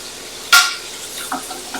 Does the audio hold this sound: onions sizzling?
yes